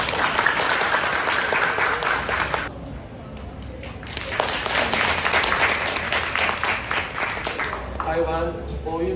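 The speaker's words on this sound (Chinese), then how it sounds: "让我们掌声欢迎" Audience applause at a ceremony marking ten years of friendship at Songshan railway station, a steady loud wash of clapping that dips briefly and then swells again.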